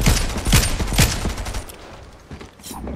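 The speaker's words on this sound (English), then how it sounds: "Just keep shooting." Rapid automatic gunfire in the Fortnite video game, loud and close, several sharp bursts in the first second followed by continued quieter shots and game noise.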